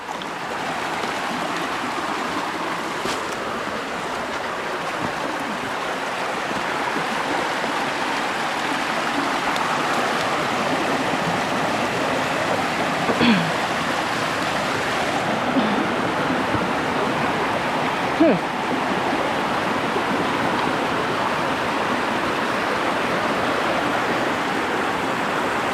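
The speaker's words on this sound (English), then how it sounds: "I think there's another waterfall up here on the left-hand side" Waterfall on a hike at Short Springs State Natural Area in Tennessee, a broad, constant roar of falling and rushing water that stays steady throughout, with faint occasional knocks close by.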